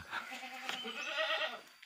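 A sheep on a livestock farm bleats in one long wavering cry, close and fairly clear against a quiet background.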